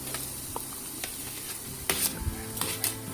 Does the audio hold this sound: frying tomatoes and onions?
yes